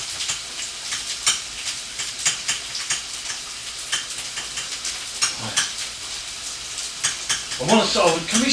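Onion and garlic fry in oil in a pan, giving a steady crackling sizzle with stirring scrapes, close and fairly loud, briefly joined by a voice near the end.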